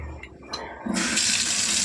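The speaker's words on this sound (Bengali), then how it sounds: "তেঁতুলটা একটু ভিজিয়ে দিই" Water pours from a tap into a bowl to soak tamarind for a tomato pickle, starting with a sudden loud gush after soft handling noises and running steadily up close.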